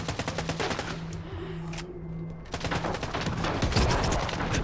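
Rapid gunfire from S.T.A.L.K.E.R. 2 gameplay, dense bursts of shots that pause briefly mid-clip and then resume loud and continuous to the end.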